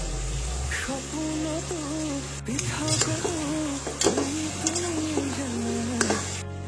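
Meat sizzles and fries in a pan with salt added, stirring and occasional clinks of a utensil against metal, steady and close, with a faint hum underneath.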